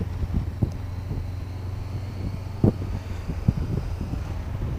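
Steady wind roar buffets the microphone on a motorcycle riding a road in Gran Canaria, with low engine rumble underneath and a few brief knocks, close and continuous.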